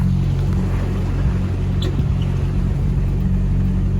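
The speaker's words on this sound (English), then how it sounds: "It's kind of a bumpy road. Got the trailer back there." Inside a vehicle towing a trailer along a bumpy Mojave desert dirt road, a loud, constant low engine and road rumble drones steadily with slight jolts and rattles.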